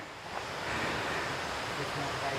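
The old Shivajatta waterfall in Nepal gives off a steady, even rush of falling water. The broad hiss is continuous and fairly distant, with no clear speech over it.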